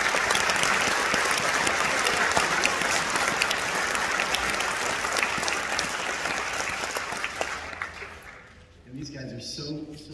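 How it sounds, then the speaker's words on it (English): Sustained applause from a concert audience at a junior high all-district band concert, dense and loud for about eight seconds before fading out, with a voice speaking over the tail end. "I'd just like to give all of those directors a round of applause."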